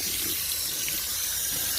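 Steady hiss of a garden hose spraying water onto compost, a continuous close wash of water with no breaks or voices.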